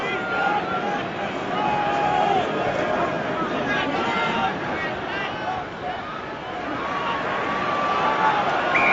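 Restless, booing crowd at the 1991 Rugby World Cup final between England and Australia reacting to a scrum decision, a broad continuous murmur of disapproval with a commentator talking over it.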